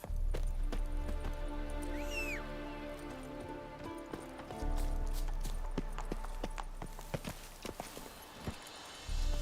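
Roach, Geralt's horse in The Witcher 3, pounds along in a fast rhythmic gallop of hoofbeats over a low rumbling ambience, with a brief chirping call overhead.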